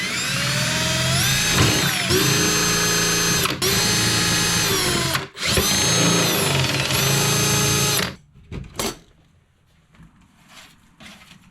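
A power drill whines loudly in steady bursts with two brief pauses while drilling a hole in a boat ski locker lid, then stops, followed by a few faint knocks and quiet handling.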